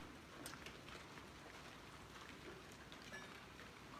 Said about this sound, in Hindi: सिर्फ मौसम अच्छा रहा और इस वक्त बारिश हो गई है।